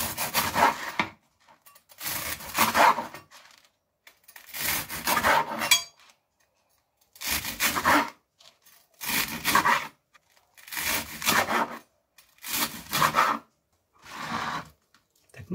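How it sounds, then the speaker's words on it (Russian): Knife sawing through bread crusts for croutons, a series of about eight short rasping cutting strokes in separate bursts with brief pauses between, close and fairly loud, no voices. "Корочки мы обрезаем."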